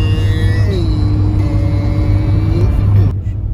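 A car engine drones loud and steady on a mountain road in the Rockies, its pitch dipping and then holding before a clear rise as it accelerates, cutting off abruptly near the end, heard from inside the vehicle with no talk.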